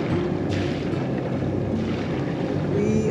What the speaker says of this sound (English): We are sailing, motoring along the coast of Dominica.